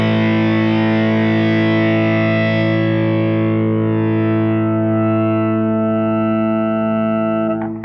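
A sustained, heavily distorted guitar chord through an Ultrawave multiband processor rings out loud and steady, its tone shifting and thinning as the processing changes, then cuts off abruptly.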